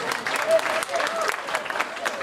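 A hall audience at a Senandung Muhibbah cultural gathering claps in a short burst of applause, with a voice briefly heard over it.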